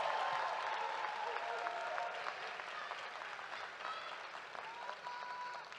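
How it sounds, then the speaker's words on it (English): Commencement crowd at Prairie View A&M University applauding master's and doctoral graduates, a sustained round of clapping from a large hall audience, strongest at the start and easing slightly. "a rousing round of applause for our 2025 master's and doctoral graduates"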